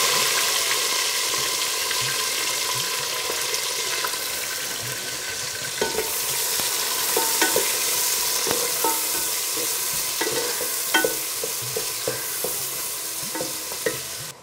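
Onions cook in hot oil for a country chicken curry, with a continuous close sizzle and frequent scraping, clattering stirs of a spoon against the pan; no one speaks.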